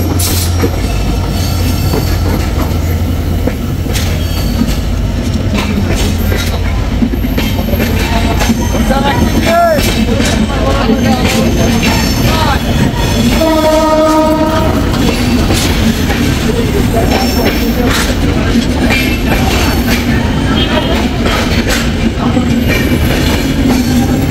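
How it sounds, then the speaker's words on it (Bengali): A train rolls through a busy level crossing in Dhaka with traffic backed up, its wheels rumbling and squealing loudly throughout, and a short horn-like tone sounding partway through. "ট্রেন আসতেছে, ট্রেনটা আসুক দেখি।"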